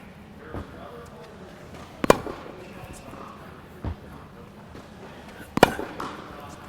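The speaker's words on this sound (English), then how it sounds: "What I'm going to do now is just demonstrate some on-the-rise forehands" Tennis ball struck with on-the-rise forehands, producing two sharp, loud impacts a few seconds apart, with a fainter hit in between, over light background noise.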